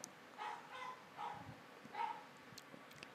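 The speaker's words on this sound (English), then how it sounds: "I'm sure you can hear my dog barking in the background." A dog barks in the background late at night, three or four faint, muffled barks spaced about a second apart.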